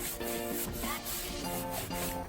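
Hand sanding over primer on the body of a wrecked Honda S2000 under repair, a steady close rasping rub with brief strokes and pauses, no talking.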